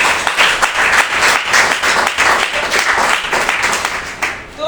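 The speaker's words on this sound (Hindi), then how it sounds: "हमारे सर और मैडम के लिए एक बार दिल से जोरदार तालियां" Audience clapping for the guests at a motivational talk, a dense, steady wash of many hands that holds loud for several seconds and begins to thin out at the end.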